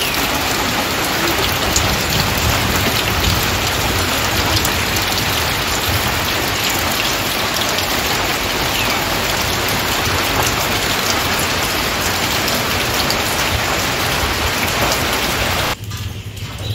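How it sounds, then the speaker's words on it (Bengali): Steady rain pours down continuously, a dense, even hiss of drops hitting surfaces, close and loud, cutting off abruptly near the end. "এখন বৃষ্টিটা একটু ধরেছে, মানে বৃষ্টিটা প্রায় পড়ছে না বললেই চলে, ঝিরঝির করে"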